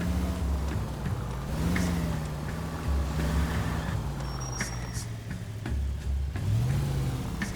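Car engine droning while driving in the L.A. Noire video game, a steady mid-pitched hum whose pitch rises and falls with shifts and acceleration, with faint short clicks and effects over the top and no speech.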